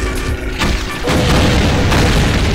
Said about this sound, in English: I want to shoot grenades in there